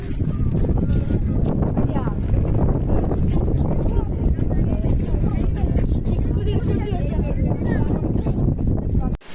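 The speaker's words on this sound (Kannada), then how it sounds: "ನೀವು ಅಬ್ಸರ್ವ್ ಮಾಡ್ತಿರ್ಬೋದು ಎಷ್ಟು ಗಾಳಿ ಬೀಸ್ತಿದೆ ಅಂತ." Strong wind gusting at a mountain viewpoint in Chikkamagaluru, Karnataka, roars as loud, continuous buffeting against the microphone, with voices faintly underneath.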